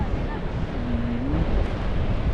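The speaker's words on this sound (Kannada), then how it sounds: "ಸೊ ಇದು ಅರೆವರೆ ಬೀಚ್ ಅಂತ" Surf at Aare Ware beach in Ratnagiri at low tide on a new-moon day, a steady broadband wash of waves with wind buffeting the microphone, loud and continuous, with a faint tonal hum drifting through.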